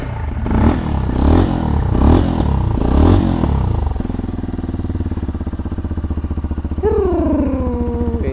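Engine and exhaust of a Kawasaki Z250 or Honda PCX150 motorcycle, revved in four strong surges, then settling into a steady idle, with one more quick blip near the end; loud and close, with no talk.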